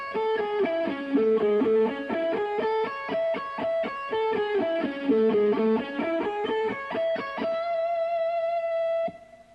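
Distorted electric guitar played slowly through effects, a lick of separated picked notes that steps down two octaves in a winding pattern, then rings out on a sustained note before cutting off; loud and close with no talk.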